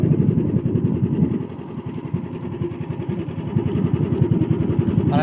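A boat's engine runs at sea with an uneven, rough-sounding rhythm, a loud close throbbing chug of rapid low pulses that wavers in speed throughout.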